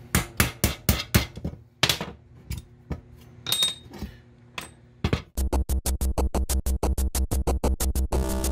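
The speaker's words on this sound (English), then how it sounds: "Here's a 3/16 punch. Again, 3/16, very important. Pop that rivet right through." Sharp metallic hammer strikes on a 3/16 punch driving a rivet out of a Jeep brake backing plate, first in irregular clusters with pauses, then a rapid steady run of loud close blows.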